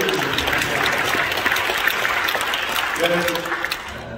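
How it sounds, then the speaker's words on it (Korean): A congregation claps during a Korean church worship service, with dense and steady applause filling the hall and a voice speaking over it near the end. "박수를 드려드립니다."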